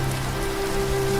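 Steady rain falls on a surface in a dense, continuous patter that holds at an even level throughout, with a low rumble beneath and no voices.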